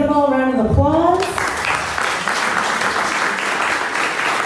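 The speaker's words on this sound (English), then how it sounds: "So if you can give them all a round of applause." A voice speaks at first, then clapping from a conference audience for a branding and marketing panel rises and carries on steadily to the end, fairly close and full.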